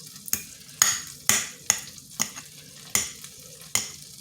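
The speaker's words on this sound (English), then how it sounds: "So this is just me making garlic butter." Vegan garlic butter sizzles in a handleless skillet under a steady frying hiss, punctuated by eight sharp scraping stirs spaced roughly half a second apart, close and clear with no talk.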